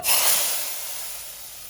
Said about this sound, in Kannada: ಸಾಸಿವೆ ಜೀರಿಗೆ ಇಂಗಿನ ಒಗ್ಗರಣೆ ಹಾಕ್ತಾ ಇದ್ದೀನಿ